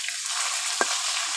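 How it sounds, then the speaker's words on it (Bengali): Fish frying in hot oil gives a steady, bright sizzle that fills the whole moment, broken by a single short clink near the end. "দেখুন বন্ধুরা, মাছ ভাজা হয়ে গিয়েছে।"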